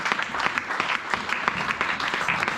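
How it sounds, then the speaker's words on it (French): A church congregation claps together in a dense, steady burst of applause with many overlapping hand claps, lively and close, with no talking over it. "Acclamons le Seigneur."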